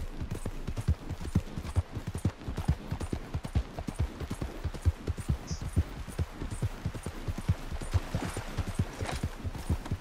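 Horse hooves clip-clopping at a walk in the video game Red Dead Redemption 2, a steady rhythm of close, distinct hoof falls with a low hum beneath, and no talking.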